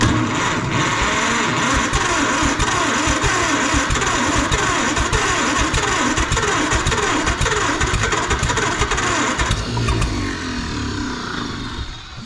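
A John Deere 440C dozer engine runs hard at full throttle, a loud, steady, rumbling roar close by that eases slightly near the end, with no voices.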